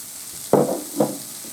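Green peppers, zucchini and garlic stir-fry in a pan, heard as two short bursts of sizzle and scraping about half a second apart, close and fairly quiet, with no talking.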